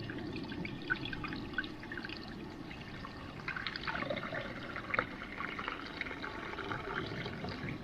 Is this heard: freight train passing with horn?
no